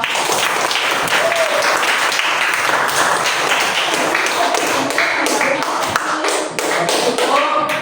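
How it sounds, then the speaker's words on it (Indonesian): A classroom of primary school pupils claps steadily and loudly for several seconds, a dense patter of hands with no pauses. "Oke, terima kasih, tepuk tangan semua."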